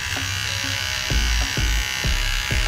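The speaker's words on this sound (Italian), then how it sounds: "Mi si sta scaricando tra l'altro il rasoio." Electric razor shaving a beard, its battery running low: a steady close-up buzz with several short, louder bursts as the head passes over the stubble.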